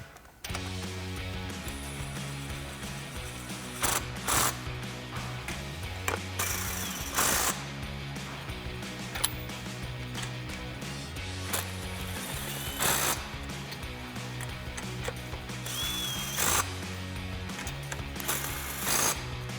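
Tightening lug nuts on a Jeep Wrangler JL's 1.5-inch hubcentric wheel spacers with a 19mm thin-wall socket, heard as a steady mechanical whirring and rattling tool sound with brief louder bursts throughout.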